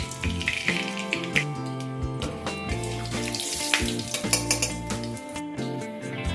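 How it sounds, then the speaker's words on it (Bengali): Whole green cardamom pods, a cinnamon stick, cloves and black peppercorns sizzle steadily in hot oil in a pan, a close continuous frying hiss with stirring scrapes and utensil clinks over it. "এবার এই তেলের মধ্যে 2টো গোটা ছোট এলাচ দিয়ে দিচ্ছি একটা দারচিনি স্টিক, দিয়ে দেবো 3 থেকে 4টে গোটা লবঙ্গ আর 7-8টা গোটা গোলমরিচ"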